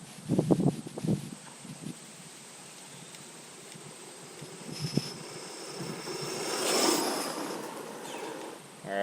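A PXToys 9204E RC car on a 3S lipo runs at full throttle, its motor whining in a buzzing rush that swells as it passes close, with thumps and bumps early on.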